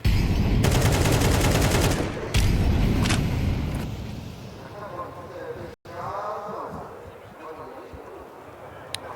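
Rapid rifle gunfire from a Counter-Strike 2 match at a professional major tournament, dense bursts of shots crowding the opening seconds beneath a commentator's excited speech, then thinner scattered shots under continued talk.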